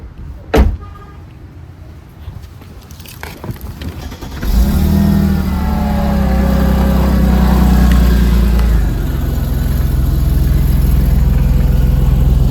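A car door clunks and rustling follows, then a Mercedes W203 AMG C32 fitted with long tube headers starts and settles into a loud, steady rumbling idle that continues to the end.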